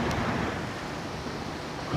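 The Tons River at Tyuni overflowing during heavy rain: a loud, steady roar of rushing floodwater fills the whole stretch, broad and continuous, with no voices.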